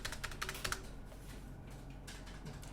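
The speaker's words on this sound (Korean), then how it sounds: "1점 찍으시고 엔터 5번 치세요" Several keys pressed on a computer keyboard, with a cluster of quick, close taps early on and scattered lighter clicks after, fairly faint and with no talking.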